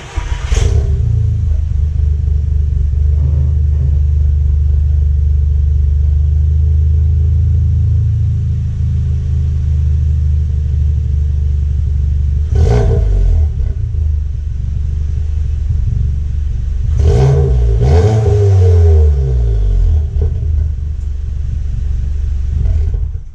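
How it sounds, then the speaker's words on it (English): A warmed-up VW Mk7 GTI with a repaired exhaust rattle rumbles loudly at idle, with sharp revs near the start, in the middle and twice more later. "Car was warmed up, so you get the idea of what it sounds like."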